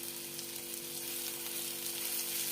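Steady, close sizzling of ridge gourd frying in oil in a pan as the dry vegetable dish finishes cooking, an even hiss throughout with no voices.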